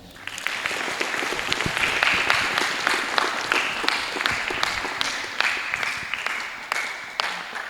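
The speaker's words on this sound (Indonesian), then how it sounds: "Untuk itu kita aplaus untuk kita semua" Loud, sustained audience applause at an evening reflection gathering, dense clapping from many hands, close and continuous throughout with a few sharper claps standing out.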